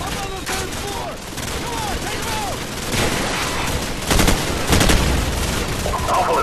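Gunfire and machine gun bursts in Call of Duty 4: Modern Warfare on Xbox 360, rattling volleys over constant battle noise, heavier bursts toward the end, with shouted voices mixed in.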